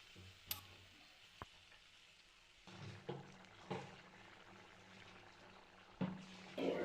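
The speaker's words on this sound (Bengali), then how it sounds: "পরে আমি এখানে পরিমাণ মতো জলটা দিয়ে নিচ্ছি" Water poured into a pan of thoroughly fried spice masala for a vegetarian chhana (paneer) kofta curry, giving a soft hiss and sizzle with a few sharp clatters and bursts as the liquid hits the hot oil, no talk.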